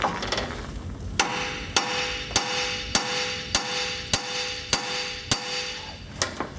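Hammer delivers about nine sharp metallic whacks at a steady, evenly spaced rhythm to separate a ball joint on a Ford F350 4WD front suspension, each ringing briefly over a low shop hum.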